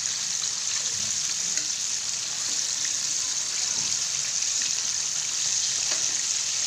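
Chicken frying in hot oil about four minutes in, still over high heat, giving a steady, dense, hissing sizzle with faint crackles and no talk.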